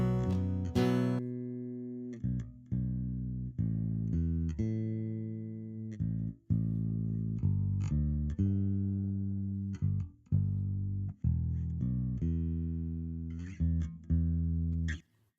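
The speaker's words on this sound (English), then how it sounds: "let's hear what the bass line sounds like at the verse" A deep, isolated bass guitar line plays alone, round sustained notes in a steady repeating pattern with short gaps between phrases.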